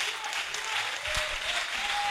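A church congregation applauding during a sermon, a steady wash of many hands clapping at moderate volume throughout, slightly distant, with no voices standing out over it.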